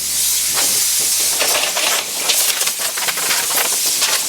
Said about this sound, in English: I'm gonna use all the air in this so I can empty my compressor tank